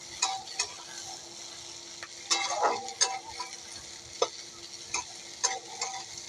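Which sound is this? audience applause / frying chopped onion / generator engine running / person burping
frying chopped onion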